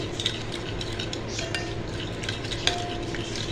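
A spoon stirs yeast into a mixture for pita bread dough, with light metallic clinks and scraping against the bowl over a soft steady background hum.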